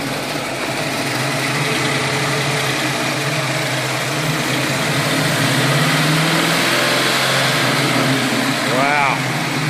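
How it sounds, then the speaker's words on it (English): A car engine fitted with Edelbrock E-Street EFI runs loud and close with a steady roar and a rise in revs, while people talk over it. "Can you rev it up a little bit?"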